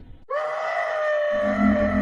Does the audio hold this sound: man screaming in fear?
yes